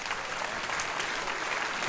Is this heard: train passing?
no